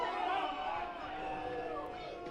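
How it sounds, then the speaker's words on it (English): Home crowd at Athletic Kulture Stadium during a Barrie Baycats baseball game, a sustained murmuring roar of disgruntled voices after a called pitch, steady and moderately loud, fading slightly toward the end. "Lots of displeasure from the home crowd at Athletic Kulture Stadium."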